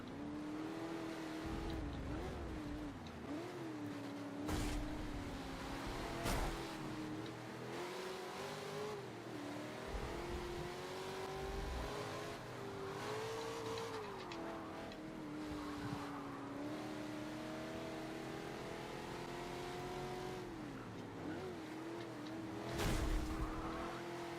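Race cars in Forza Motorsport 7 during a championship race, with a continuous engine drone that rises and falls through gear changes and revs, plus occasional sharp bumps, with no talking.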